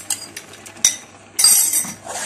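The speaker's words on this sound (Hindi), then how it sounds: "तो अब मैंने इसकी पेस्ट जो बना ली थी पाइन एप्पल की, मैं इसको डाल के जल्दी जल्दी से मिक्स करूंगी" A metal spoon stirs pineapple paste into kheer in a cooking pot, giving a few sharp clinks against the rim followed by a longer scraping, clattering stretch of mixing, close and fairly clear.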